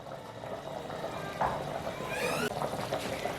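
Water heating in a pot for Bannu-style beef yakhni pulao, with a steady bubbling, simmering wash and a few brief clinks and splashes near the middle and end.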